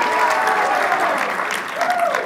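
Sustained audience applause at a political rally for parental choice in education: a dense, steady wash of clapping hands filling the space, with a slight dip and then a swell of renewed clapping near the end.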